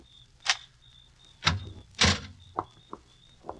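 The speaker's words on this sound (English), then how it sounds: "open the door, Ruth" A door is worked open in an old radio drama: a few sharp knocks and rattling thuds, a scraping latch and small clicks, heard fairly close over a faint steady hum.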